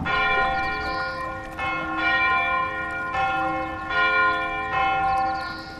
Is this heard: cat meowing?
no